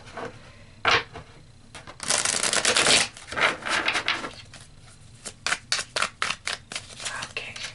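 Tarot cards being shuffled: a long riffling rustle, then a rapid series of short, crisp card snaps and flicks, close up with no talking.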